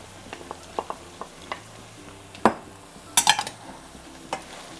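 Beef, hot dogs and Vienna sausage stirred in a pan, a soft sizzle under irregular scrapes and clinks of a utensil against metal, with a few sharper knocks, close and fairly quiet.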